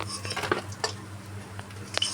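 Fried potato pakoras being lifted out of a pan with a metal utensil, giving light clinks and scrapes against the pan in a loose, irregular patter at close range.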